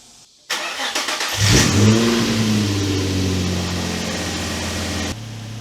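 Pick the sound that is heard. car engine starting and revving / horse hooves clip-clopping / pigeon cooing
car engine starting and revving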